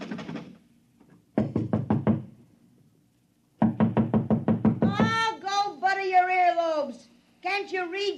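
Rapid knuckle raps on a door in an old-time radio drama come in several bursts of four to six quick knocks, loud and close, followed by an impatient voice calling out between the last knocks.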